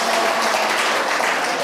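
Audience applause at a church lecture, dense and loud clapping from a large crowd, continuous and even throughout, with no voices heard over it.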